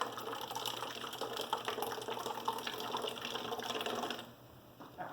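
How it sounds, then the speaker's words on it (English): Water poured from close by into a bottle, a soft steady splashing trickle that runs for a few seconds before thinning out, fairly quiet with no talk. "So I'm going to pour this in."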